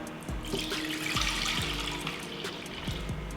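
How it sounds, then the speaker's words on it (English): Evaporated milk and water pouring into a pot for a kombu dashi base, a steady close liquid stream splashing and trickling without pause, with no talking. "what I'm gonna do now is add our evaporated milk and water to the pot"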